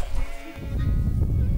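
Sheep on the Keshiketeng grassland bleat loudly and close by while being caught for summer shearing, with one harsh, drawn-out cry amid shuffling and scuffling.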